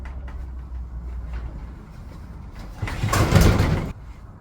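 A shed door slides and bangs shut with a short, loud rattling rumble after a few quiet footsteps and shuffling sounds nearby.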